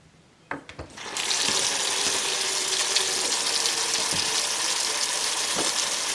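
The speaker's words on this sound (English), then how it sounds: "And as I'm running this water" Cold tap water gushes into a kitchen sink around a pot being cooled for homemade yogurt, starting after a few clunks and then running as a steady, loud, close rush.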